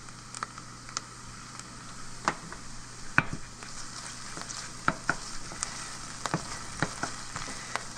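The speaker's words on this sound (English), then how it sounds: "We just want to kind of cook the tomato paste to kind of cook out that raw tomato flavor" Tomato paste and sweated onions sizzle and fry in a pan, a steady close hiss broken by the frequent clicks and scrapes of stirring.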